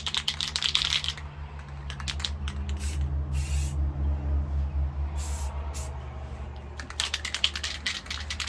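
Close spray paint can laying a light coat of camouflage paint, with short bursts of hissing spray separated by pauses, heard alone over a low background hum.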